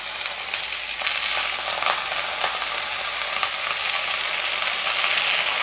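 Steady, continuous sizzle of drumstick leaves (murungai keerai) sautéing with onions in a hot pan, close and fairly loud, with faint occasional stirring scrapes and no talk.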